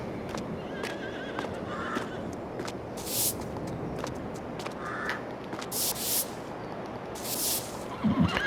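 A horse whinnies in Farming Simulator 22 on PS5 amid a dense wash of background noise, with scattered sharp clicks and brief hissing bursts throughout.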